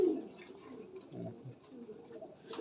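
Pigeons in a high-flying breeding loft give faint, low cooing murmurs amid a quiet indoor hum, soft and intermittent.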